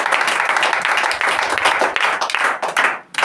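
A church congregation claps loudly and continuously at an anniversary service, a dense sustained wash of hand claps that briefly dips near the end.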